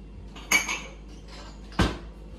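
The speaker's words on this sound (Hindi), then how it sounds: "ब्रेकफास्ट सर्व कर रहा हूं आपकी प्लेट में।" Plates and cutlery clatter while breakfast is served into a plate at home, with two distinct sharp clinks about a second apart, close and clear, with no speech over them.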